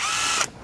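A ratchet driving a 10 mm 12-point socket on Kia engine caps gives a brief, close mechanical whir that stops abruptly after under half a second, with no talk.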